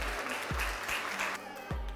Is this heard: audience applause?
yes